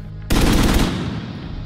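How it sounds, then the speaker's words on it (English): A sudden loud burst of automatic rifle fire recorded for The Division 2, captured on a small city street, rattles close for about half a second then decays into a long urban echo. "the street reflections that happen when you fire a gun on a small street or a big street or squares"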